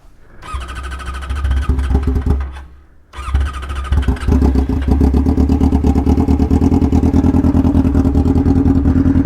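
A 600cc go-kart engine cranks, catches and runs, first a rough clattering start that dips, then a loud steady buzzing idle close by.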